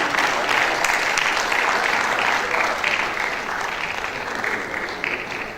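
A conference audience of surveyors and valuers claps together in a dense, sustained round of applause that fills the hall, slowly tapering toward the end.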